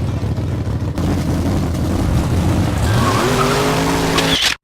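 A souped-up car launches hard off the line, engine roaring loud and close as the revs climb steadily, with tire squeal and skidding before the sound cuts off abruptly.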